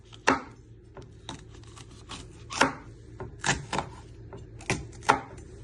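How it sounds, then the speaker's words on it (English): A knife chopping pepper into small pieces on a board, a series of sharp, close knocks in an uneven rhythm with pauses between strokes. "and you're chopping them into little pieces."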